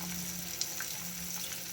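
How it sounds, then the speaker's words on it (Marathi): Onion, tomato and a few cashew pieces roast in a pan, a faint, even sizzle with a small tick or two of stirring. "कांदा चांगला परतून भाजून घेऊ, टोमॅटो पण भाजून घेऊ"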